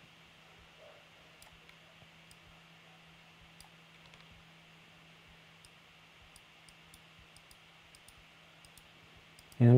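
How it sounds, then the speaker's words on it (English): A computer mouse clicked and dragged while editing an image, giving faint, sparse, quick clicks over a steady low hum, with no voice. "I'm just very quickly clicking and dragging my mouse"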